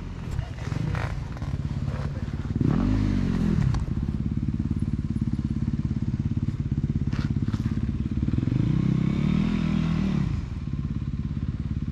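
A Yamaha YZ250FX dirt bike climbing a big hill, its engine droning steadily and then revving up in two strong rising bursts, with voices talking over it.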